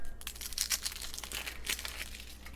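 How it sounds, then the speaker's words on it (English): An onion being halved on a cutting board and its papery peel pulled off by hand, giving brief dry crinkles and tearing crackles at close range, quiet and without talk. "I'm going to cut this in half and then go ahead and remove the peels"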